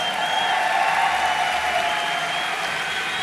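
Festival audience applauding, a sustained wash of clapping from a large crowd, even and moderately distant throughout.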